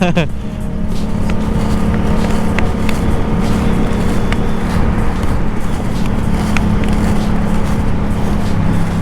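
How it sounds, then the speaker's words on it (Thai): Yamaha MT-07 motorcycle engine fitted with an exhaust silencer plug, a steady low droning rumble that holds at even loudness throughout while riding, with no clear revs or pauses. "นี่ถ้าไม่ใส่จุกรถเสียงนี่น่าจะดังกว่านี้นะ อันนี้ ใส่จุกรถเสียงมานะครับ"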